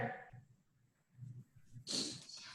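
A single short, breathy sneeze bursts out near the end, sharp and close, after soft snuffling breaths in an otherwise quiet indoor space.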